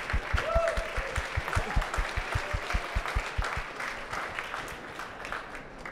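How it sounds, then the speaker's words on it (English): Audience applause at a climate optimism talk: a short burst of clapping with distinct individual claps, fairly close, that tapers off toward the end. "we should be really applauding again his effort"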